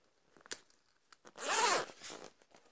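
A long side pocket on a Nash H Gun rod holdall being unzipped, giving one loud, close rasping zip run after a few light clicks and handling sounds, with no talking.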